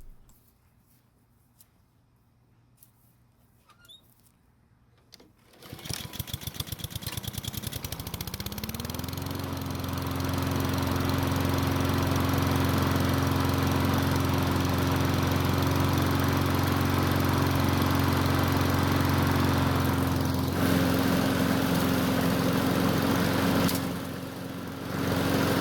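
A Honda lawn mower engine is pulled into life after quiet fiddling, catching with a rough burst and then running steadily and loudly at a constant drone, briefly dipping before settling again.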